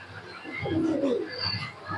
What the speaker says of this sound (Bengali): এটা একটা গিরিবাজ কবুতর